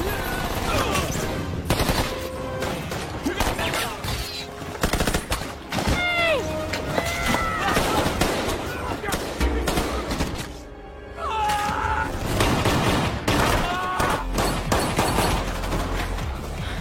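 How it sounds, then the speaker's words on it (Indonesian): Rapid automatic gunfire and single shots crackle through a spy-thriller gunfight between agents and attacking soldiers, dense bursts running nearly continuously under a film score, with a brief lull midway before the firing resumes. "Hingga pada akhirnya baku tembak pun terjadi di antara mereka."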